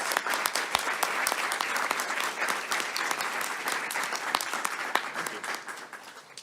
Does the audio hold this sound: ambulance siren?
no